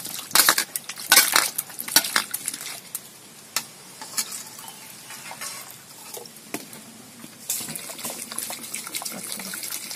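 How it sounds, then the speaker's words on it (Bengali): Cut potatoes are washed by hand in water, with close splashing, sloshing and swirling bursts, busiest early and then steadier, with no talking. "আলুটা বারবার এরকম করে আমি ধুয়ে নেব"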